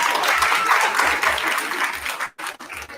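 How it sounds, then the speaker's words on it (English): Audience applause after a call for a round of applause at a watch-along announcement event, dense broadband clapping that runs loud and steady for about two seconds, then breaks off briefly and resumes more raggedly. "Everybody give them a round of applause."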